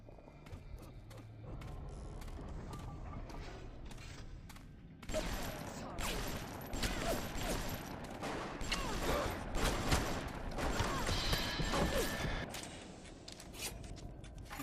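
Gunfire in the video game Bioshock: a low mechanical clatter gives way halfway through to a dense, louder stretch of rapid shots and clanking that carries on to the end.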